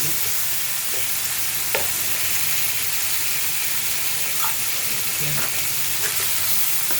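Spicy masala paste with added oil and a splash of water frying in a pan, a loud, steady close hiss and sizzle with a few faint stirring scrapes.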